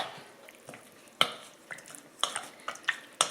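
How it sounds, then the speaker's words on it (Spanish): Raw chicken wings are mixed with soy sauce in a bowl, giving soft wet squelches and a few sharp clinks of a utensil at irregular intervals, quiet and close. "Se la vamos a echar directamente a las alitas, así. Y la vamos a mezclar"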